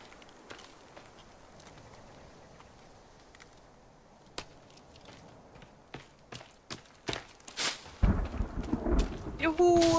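Rain falls in the survival video game The Forest: a soft, steady hiss with scattered crackling bursts that grow louder and denser toward the end, ending in a heavy rumble like a thunderclap.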